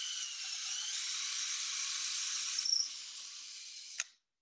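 A portable power drill bores a hole in a shop, giving a steady high whine for about four seconds that changes slightly near the end before stopping abruptly.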